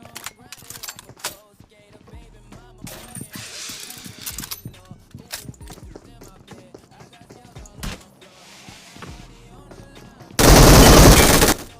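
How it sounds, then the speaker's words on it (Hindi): MG3 machine gun firing in the mobile battle royale game BGMI, heard as rapid crackling bursts of automatic fire scattered through the clip, close and loud, ending in a dense roaring burst near the end. "MG3 क्रोजर में बहुत ही खतरनाक गन है।"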